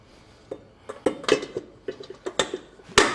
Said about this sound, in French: Est-ce que ça dérange si je mets la casserole là, comme ça va?